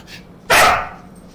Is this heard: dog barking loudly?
yes